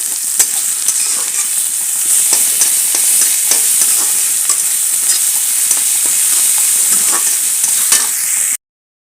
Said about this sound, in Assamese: পিঁয়াজখিনি অকণমান ৰঙা পৰিছে এতিয়া এই আদা নহৰু দি দিছোঁ